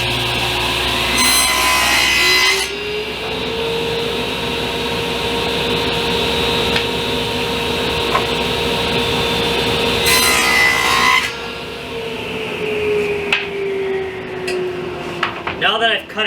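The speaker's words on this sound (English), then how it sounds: "I'm going to cut all these pieces" A power saw cuts wooden pieces for a storage bench: a loud, steady whine runs almost continuously, with blade pitch dipping as it bites into the wood and rising again near the end.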